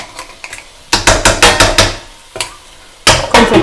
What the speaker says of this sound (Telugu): ఓకే, మూత పెట్టేస్తాను